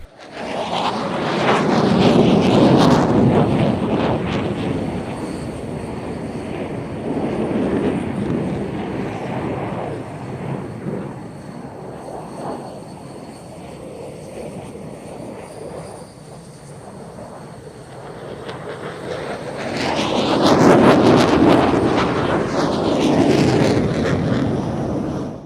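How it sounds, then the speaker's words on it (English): F-16 Falcon and JF-17 Thunder fighter jets perform a loop and 360-degree turns in a Pakistan airshow display, heard as a broad, continuous jet roar that swells loudly at the start and again near the end, with wind buffeting the microphone. "It's more vertical action from the F-16, this time a full loop, while the JF-17 trails some nice vortices in a 360-degree"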